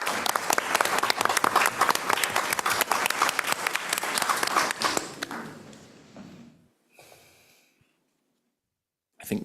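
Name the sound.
meeting audience applauding teachers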